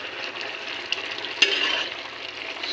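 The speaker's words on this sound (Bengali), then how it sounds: "এবার শাকটা একটু নাড়াচাড়া দিয়ে আমি এটাকে ঢেকে দিব।" Pumpkin greens get stirred in a pan with a soft sizzling hiss and a couple of brief scraping clicks, close by and alone.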